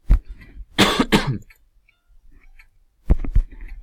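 Several sharp coughs: a single cough, then a quick double burst, a quiet pause with faint rustling, and another cluster of coughs near the end.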